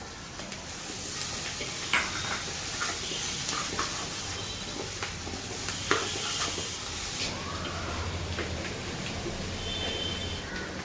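Chole chana onion gravy cooking in a pan gives a steady low sizzle and bubbling, with occasional soft stirring clicks and scrapes, heard close with no talking.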